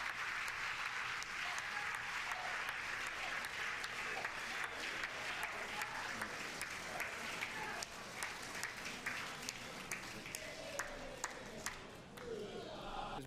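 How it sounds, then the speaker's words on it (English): Republicans in a congressional chamber applaud and cheer like a crowd, with sustained clapping and scattered whoops over a steady roar that thins slightly toward the end. "cheering like a football crowd for someone like practicing free speech being thrown out"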